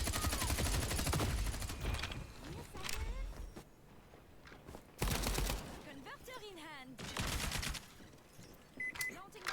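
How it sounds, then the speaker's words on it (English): Gunshots fired at the player in the N64 game Tonic Trouble come as bursts of rapid fire separated by quieter gaps, mixed with other game effects and sound under a voice talking. "I landed a hit, but I couldn't see who was shooting me."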